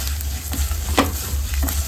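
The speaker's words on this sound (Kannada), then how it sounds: "1 ನಿಮಿಷ ಫ್ರೈ ಮಾಡ್ಕೊಳ್ಳೋಣ." Cumin seeds and ajwain frying in a pan for a fish curry masala make a soft, steady sizzle, with a few light stirring taps and scrapes.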